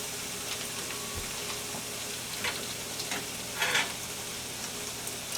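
Okra frying in a pan, spread in an even layer, with a steady close sizzle throughout and a few brief louder crackles and stirring noises.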